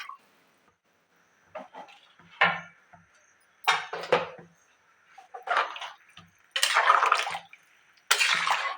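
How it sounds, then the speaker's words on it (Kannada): Water poured into a cooking pot of vegetables for vegetable pulao, arriving in several short splashing bursts with quiet gaps between them, the last two pours longer and fuller. "ಈಗ ನಾನು ಇದಕ್ಕೆ ನೀರನ್ನ ಆ್ಯಡ್ ಮಾಡ್ಕೊಳ್ತೀನಿ"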